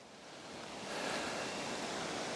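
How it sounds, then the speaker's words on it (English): A farm creek running high during a flood, a faint steady wash of flowing water that swells slightly after the first second and holds on evenly, with no voices. "I'll show you the creek that I'm talking about. Probably can hear it flowing pretty good."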